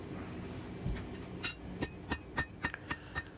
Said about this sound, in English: Now ping the rivet over.